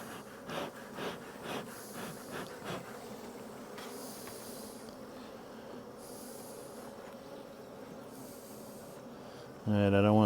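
Honeybees buzz faintly at an open, neglected hive, a soft continuous hum with intermittent rustling and handling noises and a louder thump at the end.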